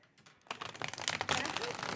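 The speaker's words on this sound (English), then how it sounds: "Is the shuffling okay? I need to shuffle the cards" Tarot cards are being shuffled by hand in a quick run of crisp riffling and flicking, quiet at first and then denser and louder, with no speech.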